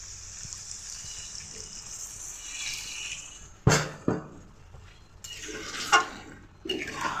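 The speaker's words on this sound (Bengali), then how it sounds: "এখন সামান্য একটু জল দিয়ে দিচ্ছি।" A little water is poured into a pan of papaya curry cooked with grated coconut, giving a sudden splash and sizzle followed by bursts of bubbling and hissing; no talking.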